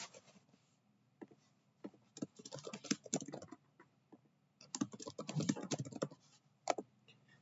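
Keys clacking on a computer keyboard as a username is typed into a sign-up form, with bursts of quick irregular keystrokes separated by short pauses, close and fairly quiet.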